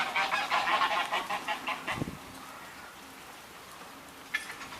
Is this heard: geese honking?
yes